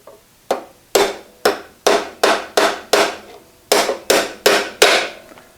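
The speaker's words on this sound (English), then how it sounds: "You drill or drive in all 4 pins like that" A hammer drives 1/4 inch split spring pins into a metal bandsaw elevating plate, about a dozen sharp, loud metallic strikes in an uneven rhythm, close up with no talking.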